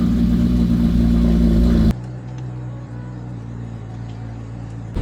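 A Ferrari 458 GT3 race car engine runs loud and close with a strong low growl, then cuts abruptly to a quieter, lower idle-like hum for the remaining seconds.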